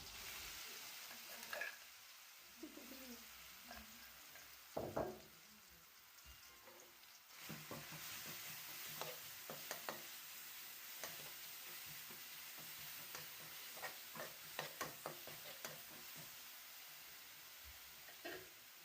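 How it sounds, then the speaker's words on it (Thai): Pounded Thai curry paste stir-fries in hot oil for a stink bean and shrimp paste dish, giving a steady sizzle broken by repeated scraping strokes of a spatula against the pan, with no voices. "นำเครื่องแกงที่เราตำไว้นะคะ เอามาผัดกับน้ำมันให้ส่งกลิ่นหอมดีซะก่อน"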